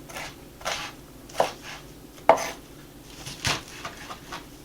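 A knife chops cabbage and leafy greens for sauerkraut on a board, with about half a dozen separate crisp, close strikes at uneven intervals and quiet pauses between them.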